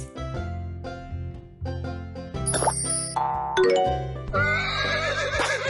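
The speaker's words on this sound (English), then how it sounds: "Horse." A horse neighs in a children's animal learning game, a high wavering whinny near the end that follows chimes and jingling effects.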